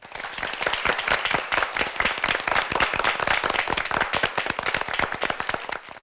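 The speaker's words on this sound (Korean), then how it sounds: "박수 부탁드립니다." Steady applause from a crowd at a high school debate competition, many hands clapping densely and evenly for about six seconds with no pauses.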